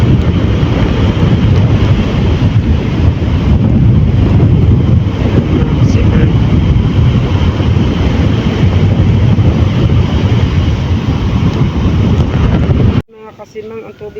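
Brown seawater floods up to a house during a storm, churning and washing in a constant loud roar mixed with heavy wind buffeting the microphone, cutting off abruptly near the end.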